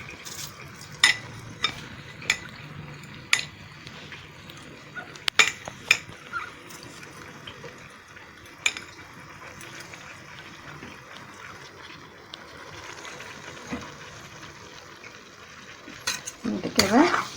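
Soaked rice being stirred into cooked masala in a pan for Bengali muri ghonto, with scattered spoon-on-metal clinks and soft scraping over a low sizzle, moderately faint and without talk.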